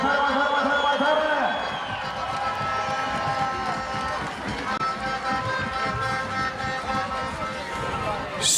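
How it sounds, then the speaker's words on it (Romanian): Crowd cheering and applause at a beach rugby championship match between Moldova and Croatia, a steady loud roar of voices and clapping throughout with whoops, and an announcer talking over it. "Să le dăm aplauze și gălăgie încă o dată haiducilor. Mai tare!"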